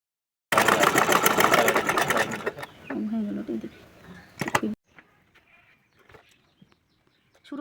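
A sewing machine stitching pleats runs in a fast, loud, rhythmic burst for a few seconds, slows, gives one more short run, then stops. Quiet handling sounds and faint background noise follow.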